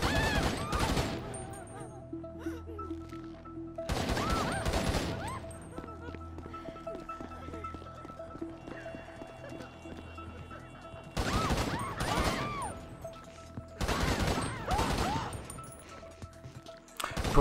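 Gunfire at targets on a shooting course in GTA 5, with several dense bursts of rapid loud shots separated by quieter stretches of ambient hum.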